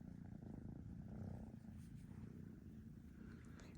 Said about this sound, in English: And they're purring.